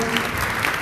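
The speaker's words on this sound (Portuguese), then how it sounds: "Vamos acolher então a jovem, uma salva de palmas." A brief burst of steady clapping from a small gathering welcomes a young woman at a parish communication ministry event.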